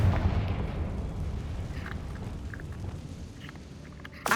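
A Confringo spell explodes in the fantasy game Hogwarts Legacy, a deep booming blast at the start that fades into a long, rumbling, crackling decay.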